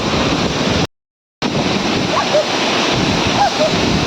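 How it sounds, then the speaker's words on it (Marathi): Ranpat waterfall in the Konkan roars with a loud, dense rush of falling water, broadband and constant, with wind buffeting the microphone and a brief dropout near the start. "प्रचंड असा पाण्याचा स्रोत सुंदर ठिकाण"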